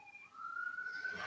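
A siren wails faintly in the distance, one steady tone climbing in pitch and growing a little louder over a quiet background.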